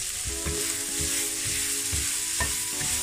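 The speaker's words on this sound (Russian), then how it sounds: "Он пассируется, бланшируется в масле." Onion gently sautéing in oil for Korean beef salad, a steady close sizzle with a handful of soft stirring scrapes spaced through it.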